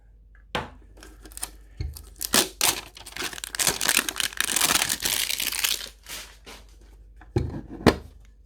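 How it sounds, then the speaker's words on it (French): Packaging on a box of Pokémon cards crinkles and rustles up close in a series of sharp bursts, with short tearing and crumpling sounds and brief quiet gaps between them. "On va commencer tout de suite par ouvrir la première boîte."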